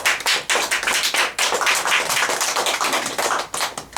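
Close, loud clapping from a breakfast forum audience, with sharp individual hand strikes clearly audible in an uneven, fast patter that briefly dips and resumes.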